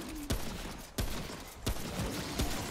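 Four sharp, evenly spaced gunshots ring out in the video game Remnant: From the Ashes, each a loud crack over a steady background din.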